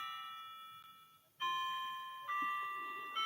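Bright electronic chime strikes from a clock ring out in a quiet room, with three distinct tones sounding roughly a second apart, each sustaining and overlapping.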